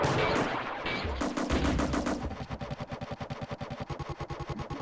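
Missile launches and gunfire from the video game Steel Talons: a dense burst of loud blasts, followed by a long run of rapid, evenly spaced automatic shots close up.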